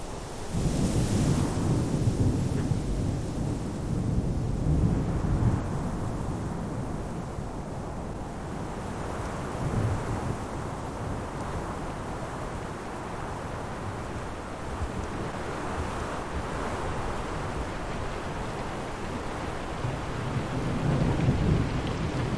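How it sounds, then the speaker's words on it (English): Rain and a rolling thunderstorm in a VRChat game world, steady dense rainfall with low rumbling thunder swelling at the start and end, loud and continuous with no voices. "But instead it rains."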